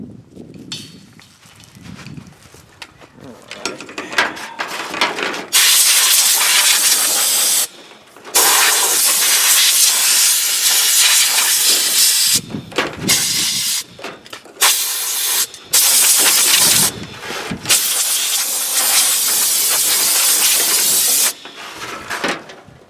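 Compressed air bursts from a blow gun to clear debris off a 1948 Oldsmobile engine, loud close hissing blasts of several seconds each, separated by short pauses and quieter shop noise.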